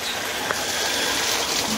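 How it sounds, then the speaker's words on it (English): Water runs steadily through an aquaponic system as a continuous, fairly loud gushing hiss, with a faint short knock near the middle and no talk. "go ahead and turn that water off."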